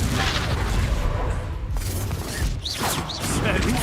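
Explosive blast from the Confringo spell in the Hogwarts Legacy video game, a loud booming burst layered over continuous game effects and background noise, with a voice speaking at points.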